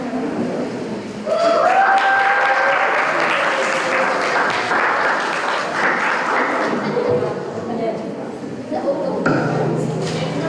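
An audience at a Technology Day 2023 presentation applauds loudly and steadily for about ten seconds, with crowd noise and a few voices mixed into the clapping before it thins out near the end.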